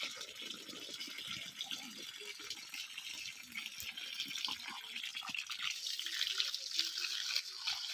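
Water from a pump flows into a farm field, a steady rushing, rattling splash heard close with hiss-like spray throughout, and a voice briefly audible.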